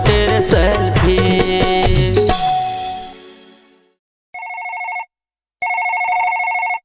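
A phone rings in two loud bursts with a short gap between them, starting after a folk song from Chhattisgarh fades out.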